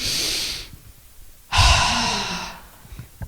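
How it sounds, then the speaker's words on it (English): A group takes a deep breath together, first a brief intake, then a louder, fuller rush of air lasting about a second that fades out gradually, with no voices. "Take a nice deep breath in"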